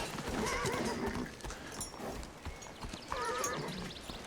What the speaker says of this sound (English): I'm here to see Jimmy start a 2-year-old colt called Shiver.